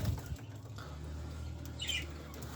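Caged birds flutter and flap their wings in short bursts, with a faint chirp, over a steady low hum.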